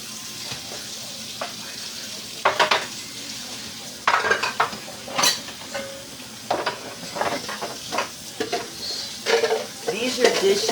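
Dishes piled up overnight being washed at a home kitchen sink: repeated clinks and clatters of plates, pots and cutlery with running water, close and busy, coming in bursts throughout.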